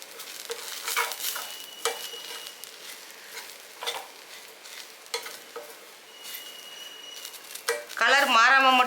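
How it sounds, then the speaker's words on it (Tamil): Semolina (rava) roasting in a pan on a low flame for idli, with dry scraping stirs and faint sizzling, a voice briefly heard near the end. "சிம்மிலே வச்சு வறுத்துங்க"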